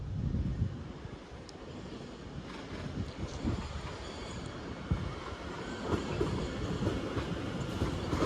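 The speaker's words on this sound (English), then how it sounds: "here we do have a London Overground 710 arriving in from Watford Junction" A London Overground Class 710 electric train arriving at London Euston, a steady close rumble of wheels on rails with faint clicks over track joints, no talk.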